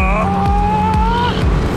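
A 621-horsepower Corvette supercar is driven hard at speed, its steady engine drone rising in pitch with faint tire noise underneath, loud and close throughout.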